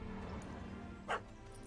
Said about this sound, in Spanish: Chico, que es un perro.